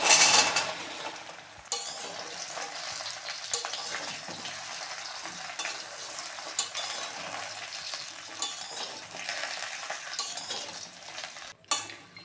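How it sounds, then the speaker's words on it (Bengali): Jujubes and bay leaves being stirred in a hot pan make a soft, continuous sizzle with scraping of a utensil against the pan and occasional clinks, fairly quiet and steady throughout. "একটা নাড়াচাড়া করে নিয়েছি"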